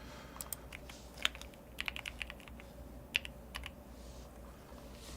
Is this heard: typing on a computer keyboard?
yes